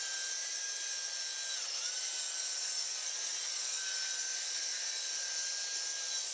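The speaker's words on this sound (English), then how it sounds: "I cut the thinner plywood into 3 interior partition pieces with a circular saw." A circular saw cuts thin plywood into interior partition pieces for a bat house, giving a steady, continuous high whine over dense hiss that holds even throughout with no voices.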